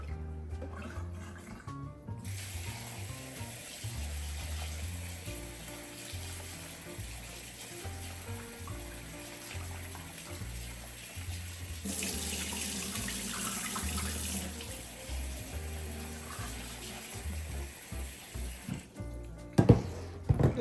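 A kitchen faucet runs steadily into a sink while mushrooms are rinsed under the stream, a continuous close splashing wash that swells louder midway and ends with a few clattering knocks.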